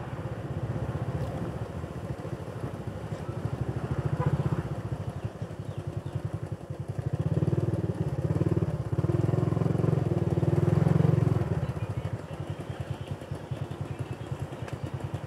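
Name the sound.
motorcycles passing in traffic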